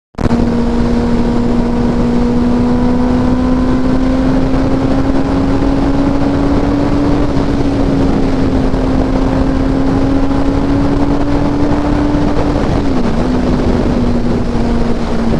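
A Benelli 600i four-cylinder superbike engine is held at high revs, a loud, steady, close roar with a strong tonal whine that drifts slightly up and down in pitch, with no speech.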